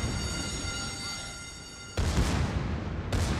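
Naval gunfire from the warship Phoenix in a warship video game: two heavy booming salvos land about a second apart, cutting sharply through a steady droning background.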